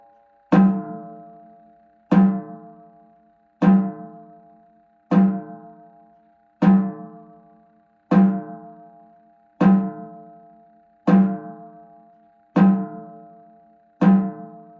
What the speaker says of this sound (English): So this is the way I produce the loom sound on the drum set.